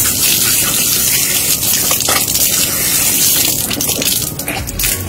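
Water gushes steadily from an automatic touchless ablution tap at a wudu station, a loud close splashing stream that runs without pause throughout.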